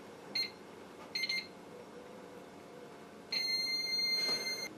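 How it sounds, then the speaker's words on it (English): A FlashForge Finder 3D printer beeps during bed leveling: two short high beeps, then a longer sustained beep, each clear and close against a quiet background. "turning this clockwise until it beeps"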